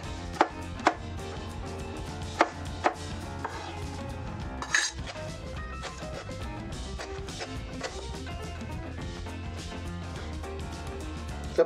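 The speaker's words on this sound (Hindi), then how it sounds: "ये एक हम टमाटो काट लेते हैं।" A knife chops tomato on a cutting board in a home kitchen, with a few sharp board knocks and a brief clatter over a steady, droning background.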